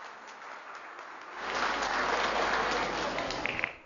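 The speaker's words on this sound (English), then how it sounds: "let us appreciate, let us applaud their performance" Parents applauding the children's performance at a play group's annual day, a soft spatter of clapping that swells fuller and louder midway and holds as a dense wash until cutting off.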